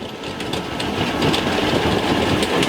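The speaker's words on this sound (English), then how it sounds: "I topped off today, just letting the engines run" Boat engines idle at a marina with a low, steady rumble nearby, with a faint rhythmic ticking over the drone.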